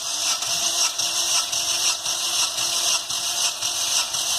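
A Corsa 1.0 flex engine cranks over on the starter during a cylinder compression test, giving a steady, loud whirring drone with faint rhythmic pulses from the compression strokes, continuous throughout and without voices.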